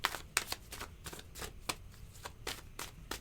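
Tarot cards are shuffled during a reading in a series of quick, crisp riffling bursts, roughly three or four per second, close and quiet with no talking.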